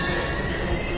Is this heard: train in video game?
yes